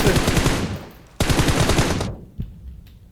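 Automatic gunfire in an online shooter game, two loud rapid bursts of shots about a second each, followed by a single fainter shot as it trails off.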